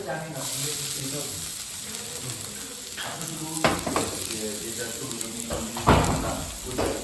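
Garlic and onion fry in plenty of oil during a multi-cuisine cooking class, giving a steady close sizzle broken by a few scraping stirs, with faint talk in the background.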